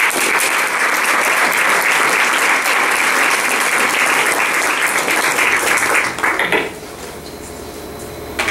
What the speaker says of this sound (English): Let's have a big round of applause for Juliane.